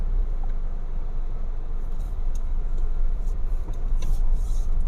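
Pickup truck rolling down the ramp of a multi-storey shopping-mall parking garage, a steady low engine rumble and tyre noise echoing close by with faint squeaks, no talk.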